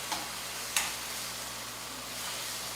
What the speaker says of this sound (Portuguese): Aqui é só deixar ele refogando.